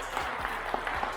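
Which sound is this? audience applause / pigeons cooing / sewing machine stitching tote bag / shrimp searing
audience applause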